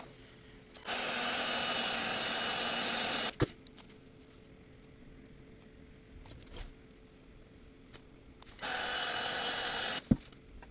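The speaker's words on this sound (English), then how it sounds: "I'll do the same thing this one with my heat gun" Heat gun blowing on the back glass of a Samsung Galaxy Note 10 Plus: a steady broadband roar runs for about two and a half seconds, then a quiet gap with small clicks, then a second shorter blast.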